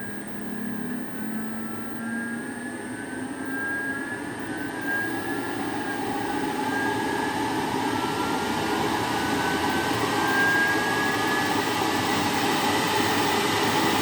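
A Hamworthy Purewell Variheat 180 boiler burner runs at high fire, a steady, loud broadband roar with faint tonal whines that holds constant throughout, with no talk.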